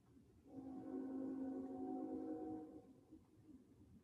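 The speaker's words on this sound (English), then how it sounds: "You hear the horn blowing?" A distant train horn sounds one sustained blast heard through an open glass sliding door, rising out of faint background rumble, holding for about two seconds, then fading.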